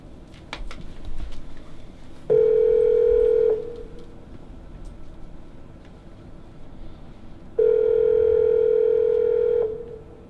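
Inside a phone box in Edinburgh, a telephone gives two long steady tones with a short burst of dialing sounds and handling noise between them, close and loud.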